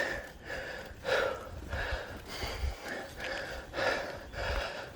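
A mountain biker breathes heavily and rhythmically while riding a Cannondale Habit on a trail at Hunters Creek. Loud, close gasping breaths repeat about once a second over faint low rumble from the trail, with no talking.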